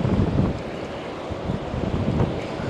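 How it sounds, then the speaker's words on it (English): Cold wind blows by a river, a continuous low rushing buffet against the microphone, close and steady for a few seconds with no talk. "Wow, that's a cold wind coming through here."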